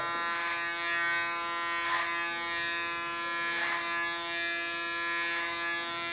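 Electric hair clipper cutting long hair short, a steady close buzzing hum that swells in a few slow passes as it moves through the hair, alone without talk.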